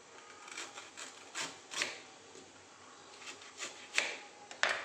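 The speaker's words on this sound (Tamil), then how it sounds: "இதை இப்போ நம்ம குட்டி குட்டியாக கட் பண்ணிக்கலாம்." Knife cutting a cleaned, peeled banana stem into small pieces, giving quiet scraping, rasping strokes at an irregular pace with a few sharper slices, close but faint, with no talk.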